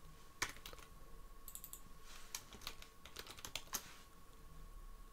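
Typing on a computer keyboard, a quick irregular run of crisp key clicks close by with short pauses, against a faint steady hum and no voices.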